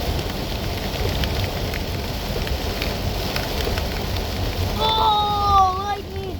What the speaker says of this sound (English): But it's hailing.